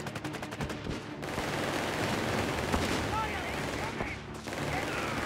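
Battle in Company of Heroes 3, with mortar fire on infantry mixed into dense overlapping gunfire and booms that run throughout. Voices can be heard faintly under the noise.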